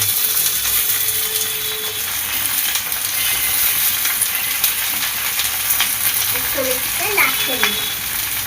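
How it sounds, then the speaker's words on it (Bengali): Eggplant, potato and onion frying in a pan make a constant sizzle, with a few light metallic scrapes and stirring clinks toward the end. "পেঁয়াজটা লাল লাল করে ভাজা হয়ে গিয়েছে এবার বেগুন আলুটা আমি একসঙ্গে দিয়ে দেব"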